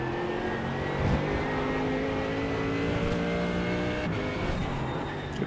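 An onboard race car engine drones steadily at close range while the driver drops down two gears braking into a hairpin, the pitch shifting slightly as it rumbles through the turn.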